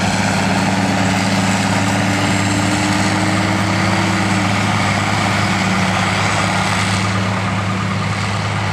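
An International Harvester 3788 tractor runs nearby at a show, its heavy diesel engine giving a loud, steady low rumble with a constant hum and a brief rising whine partway through, with no talking.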